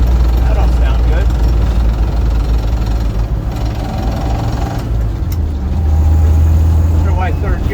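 A 1966 Land Rover 109-inch 6-cylinder engine drones loudly and continuously with a whining third-gear noise, the pitch shifting partway through, and a voice speaks briefly over it.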